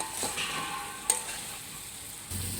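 Fried potatoes, eggs and soybean chunks stirred with spices in a pan, a soft steady sizzle with scraping stirs and a sharp metallic clink from the utensil, with no talking.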